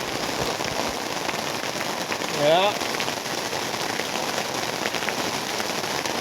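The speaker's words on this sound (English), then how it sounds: "Good old summer rains." Spring rain falling in the mountains, a steady, even hiss of drops on surfaces close by, with someone briefly speaking over it.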